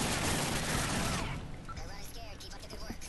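Rapid gunfire in Modern Warfare 3 Spec Ops Survival on the Underground map: a loud burst of sustained shooting that cuts off after about a second, leaving quieter clatter and scattered sounds while players talk.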